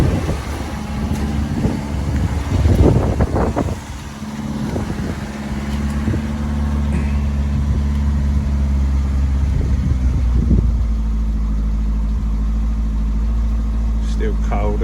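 A cold Renault 5 GT Turbo engine idles on choke with a steady low rumble, wind buffeting outdoors and someone talking over it early on.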